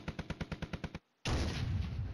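Rapid bursts of tank and automatic gunfire in the wargame Flashpoint Campaigns: Red Storm, about nine evenly spaced shots, then a brief silence and a heavy sustained rumbling blast.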